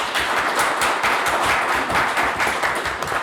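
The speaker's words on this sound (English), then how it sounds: "a quick round of applause for our panel members" An audience at a gaming convention panel applauds its panel members, a dense steady wash of many hands clapping throughout, close and continuous.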